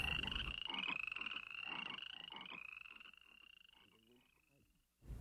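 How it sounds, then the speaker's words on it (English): Many frogs croak in a dense, continuous chorus as a dramatized sound effect from the biblical plague of frogs in Egypt, loud at first then thinning and fading toward the end before a brief burst. "Moses cried out to Jehovah, and the frogs began to die off."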